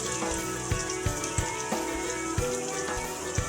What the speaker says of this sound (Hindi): इसको भी हम अच्छे से भून लेंगे ऑनियन को